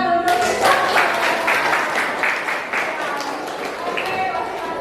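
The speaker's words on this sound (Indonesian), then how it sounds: "Oke, sip, tepuk tangan untuk kita." A class of students claps together in a steady rhythm during a school lesson, sharp repeated claps coming in even beats while voices talk over them.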